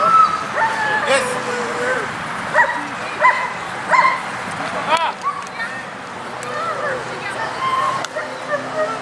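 A dog barks and yips intermittently at a distance during an outdoor regional event on Réunion island, with frequent people talking and calling out over it.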